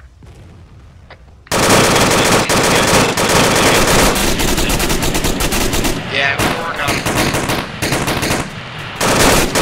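A heavy machine gun in a military video game fires long, loud bursts of rapid automatic shots with brief pauses between them. Voices talk over the gunfire.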